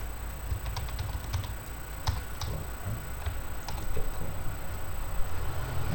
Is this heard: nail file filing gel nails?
no